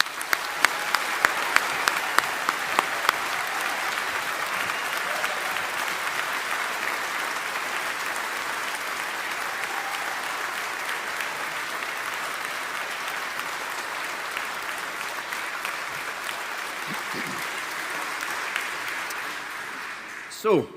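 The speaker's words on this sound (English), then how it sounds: "a big round of applause" Long, steady round of applause from a graduation ceremony audience for new engineering graduates, opening with a few sharp claps then settling into even, moderately distant clapping that fades out at the end.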